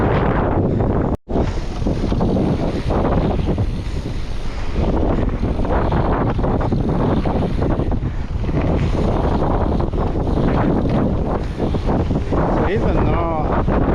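Heavy wind buffets the microphone during a warm-up lap on a mountain bike with a slack suspension fork, producing a loud, continuous rushing roar that nearly buries a few spoken words.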